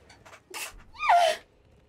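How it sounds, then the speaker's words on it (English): A single sneeze from a streamer playing Elden Ring, a short gasping intake followed by a sharp, loud burst that fades quickly, heard close and alone. "Oh no, I have to sneeze."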